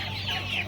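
Chickens going into their coop for the night, giving a brief, close cluck or two alone against a low steady hum.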